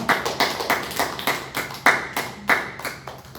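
A church congregation claps in a steady, regular rhythm, about three claps a second, with a roomy, crowd-like sound.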